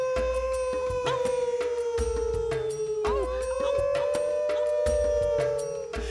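A person imitates a wolf howl with a long, sustained wavering tone that breaks briefly and resumes, backed by low rhythmic thumps, close and loud.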